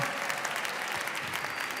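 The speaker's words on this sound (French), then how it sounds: "Applaudissez-le, s'il vous plaît, très très très fort" Audience at a Creole Christmas concert in Avignon applauding a performer, a brief, dense, even burst of clapping, loud and continuous.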